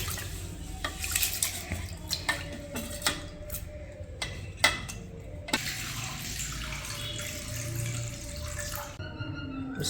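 Water poured into a pot of rice for Malaysian nasi lemak, a steady running splash with a few clinks of the pot, close and with no one speaking.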